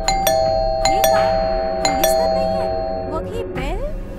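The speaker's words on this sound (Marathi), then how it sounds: "अनुजाने सेफ्टीसाठी डोर होलमधनं बाहेर पाहिलं तर कोणीही नव्हतं, तरीही डोर बेल वाजत होती." A doorbell in a horror story rings again and again, several bright chimes struck in quick succession over a steady background bed, with voices faintly present underneath.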